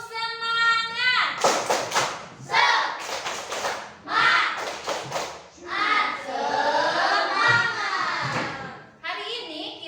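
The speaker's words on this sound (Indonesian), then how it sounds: "Tepuk semangat." Indonesian classroom of children doing a rhythmic spirit clap, bursts of hand claps and thumps mixed with kids' chanting voices, loud and close, in several quick rhythmic groups.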